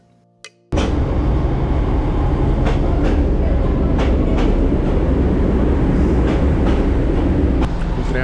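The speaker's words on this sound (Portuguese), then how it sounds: "O trem acabou de chegar aqui." A commuter train on the metropolitan rail line of João Pessoa, Brazil, rolls loudly into a station, with a steady heavy rumble and occasional sharp clanks from the wheels and cars continuing throughout.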